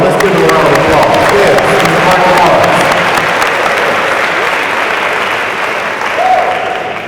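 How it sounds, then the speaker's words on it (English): A hall full of people at a university homecoming convocation claps loudly and continuously for a guest's family, a thick unbroken wash of applause that eases off a little toward the end. "Let's give them a round of applause."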